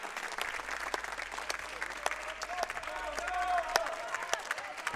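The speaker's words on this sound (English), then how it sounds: "Crowd behind us cheering Dara Gorman on." A football crowd at the England versus Northern Ireland Home Nations final applauds and cheers steadily, swelling slightly toward the end, with a commentator talking over it.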